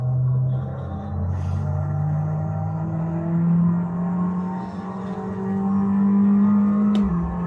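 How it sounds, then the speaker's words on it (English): A steady, droning F1 race car engine in a racing video game hums continuously with a slight rise in pitch, holding a constant loud level throughout with no talking. "I don't know how well you guys can hear the engine."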